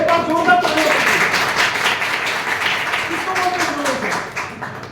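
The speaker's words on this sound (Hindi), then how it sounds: "एक बार जोरदार तालियां बजाइए" An audience at a training session applauds loudly after being asked to, with dense, close clapping that lasts several seconds and tapers slightly, and voices call out now and then over it.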